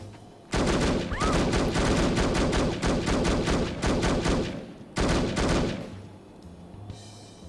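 Sustained AK rifle fire in the video game The Operative: No One Lives Forever, with long, loud, rapid bursts of automatic shots close by, a brief pause and then another burst, fading at the end.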